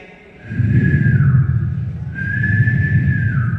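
A voice imitates wheezing breath: two long, high whistling tones over breathy airflow, each drawn out for over a second.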